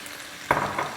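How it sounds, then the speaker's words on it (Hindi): Garam masala, red chili powder and turmeric, splashed with a little water, hit a hot pan for paya, giving a sudden close sizzle that fades into a softer crackle. "और इसको भूनेंगे।"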